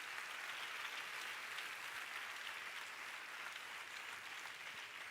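Steady, dense applause from a church congregation during a sermon, evenly sustained for several seconds at moderate distance with no voice over it.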